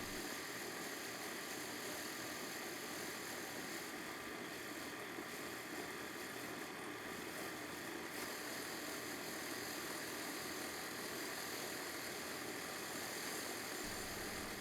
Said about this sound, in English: So I wanted to brighten it up a little bit and hit it with the wire wheel.